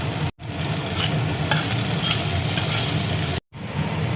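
Chopped green chilies with capsicum and other vegetables fry in a pan with a loud, steady sizzle and occasional stirring, broken by two brief silent gaps.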